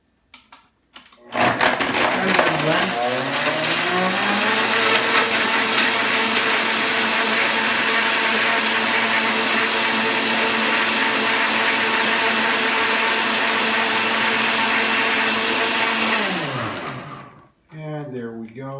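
A big countertop blender runs steadily for about fifteen seconds, blending a meal replacement smoothie with water, loud whirring motor with a rising pitch at start-up, cutting off near the end.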